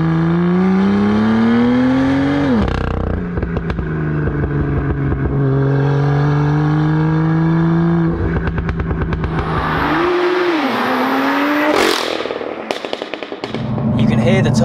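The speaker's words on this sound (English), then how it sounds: "I forgot that lovely noise you get for the M2s when you lift off" Tuned BMW M2 with an N55 engine making 625 bhp, its engine droning loud and steady under acceleration, then lifting off with a throbbing burble and turbo whoosh.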